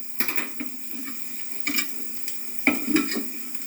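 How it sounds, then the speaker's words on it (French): Browned onions frying in a pan as vegetables, starting with mushrooms, go in, giving soft sizzling with scattered stirring scrapes and a few louder clatters near the end, no voices. "Alors maintenant que mes oignons ont bien bruni, je vais y mettre mes légumes."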